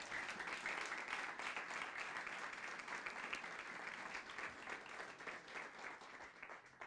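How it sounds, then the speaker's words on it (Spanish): A congregation in a church applauds, giving steady, fairly distant clapping from a crowd that holds its level for several seconds without voices. "Dele ese aplauso al Rey."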